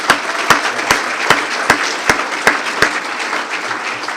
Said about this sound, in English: Let's give them a round of applause for that.